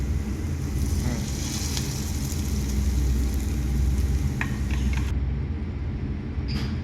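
Onions frying in a pan for chicken biryani, giving a steady, loud sizzle that fills the whole stretch, with occasional stirring clinks near the end.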